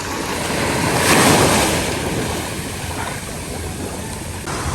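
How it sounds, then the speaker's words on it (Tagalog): Steady rush of sea surf swelling and easing, with wind noise blowing across the microphone throughout. "Hindi po malakas ang alon."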